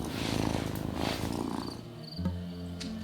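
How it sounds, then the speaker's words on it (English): A soft, rhythmic cat purr in the video game Wylde Flowers rumbles in slow waves, then gives way to a few sustained tonal notes near the end. "Listen to that purr."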